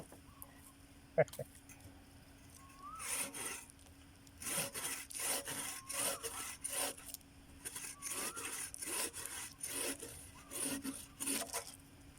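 A hand saw rasps through firewood in steady back-and-forth strokes, rhythmic and fairly close, with a rooster crowing faintly in the background.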